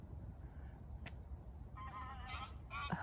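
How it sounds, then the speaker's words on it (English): Geese or swans calling as they fly over at sunset, a few honks rising out of steady background noise toward the end, fairly faint and distant. "geese or swans, over they go."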